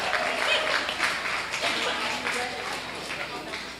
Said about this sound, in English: Let's give Gabe a nice round of applause,